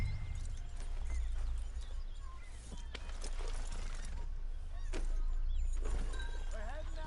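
Horse hooves clip-clopping at a steady pace as a rider sets off toward town in a PS4 western game, a continuous low rumble and game ambience underneath and a voice speaking over parts of it.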